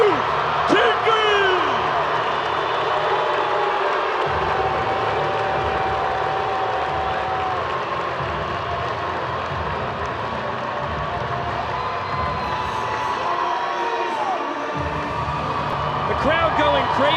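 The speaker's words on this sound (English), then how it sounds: "Crowd going crazy" A big stadium crowd in Charlotte's Carolina Panthers stadium roars, cheers and applauds for former Panthers linebacker Luke Kuechly at a Savannah Bananas exhibition game, a dense, steady wall of sound that swells near the end.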